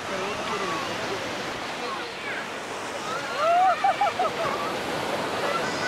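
Rain and sea surf at Kalapathar beach on Swaraj Dweep in the Andaman Islands, heard as a steady, dense wash of water noise with faint voices briefly rising in the middle.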